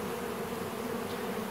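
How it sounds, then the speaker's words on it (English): Carniolan honeybees buzz inside a package, a dense, steady hum close to the microphone that holds without a break through the brief moment, with no talk. "there's still some bees in this package, so let's leave it here for a little while"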